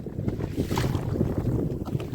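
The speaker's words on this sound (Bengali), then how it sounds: "নদীতে কিন্তু প্রচণ্ড হাওয়া হচ্ছে" Strong wind buffets a small fishing boat on a river, with waves slapping the hull. The roar is close and continuous, with no speech.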